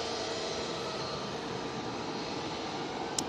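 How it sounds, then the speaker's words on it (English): A Ryanair Boeing 737 MAX 8 jet departing Manchester Airport, a steady broadband engine roar heard from a distance, continuous and even with no talking. "Ryanair 737 MAX 8."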